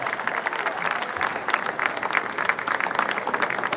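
Crowd applause in an indoor arena at a youth basketball event as young athletes enter, a dense fluttering clap texture sustained at moderate level with murmuring crowd noise beneath.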